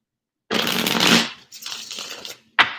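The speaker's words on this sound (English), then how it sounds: "We have to shuffle." Tarot cards riffled and shuffled at close range in two quick bursts, followed by a short final tap of the deck.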